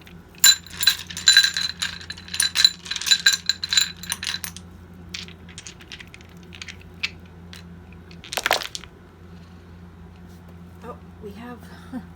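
Dice clatter and tumble across a tabletop during a tarot reading, a dense burst of rattling hits early on, then scattered clicks and a brief sharp clatter later, with a voice talking over the sounds.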